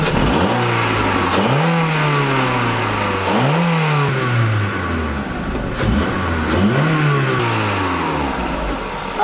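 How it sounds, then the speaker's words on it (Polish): A Volkswagen New Beetle with a small 1.4 16V four-cylinder engine revs just after starting, rising and falling in about four close, loud throttle blips over a steady idle. "musi też być przygazowa po odpaleniu motoru"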